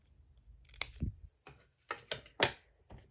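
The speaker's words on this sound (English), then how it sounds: "I'm just going to cut it in half and eyeball the middle" Scissors snip through paper in a few short, close, quiet cuts with brief pauses between them, heard on their own.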